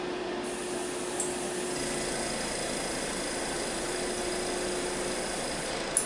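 Air compressor running steadily nearby with a continuous even hum and hiss at moderate level, no voices and no changes across the whole stretch.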